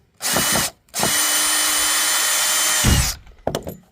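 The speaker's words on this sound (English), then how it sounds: "I've swapped to the battery on this thing so that I can take out these screws on this end stake." A battery power drill backs screws out of a wooden end stake on an allotment, giving two loud, close whirring runs, a brief one then a longer sustained one, followed by clattering handling sounds.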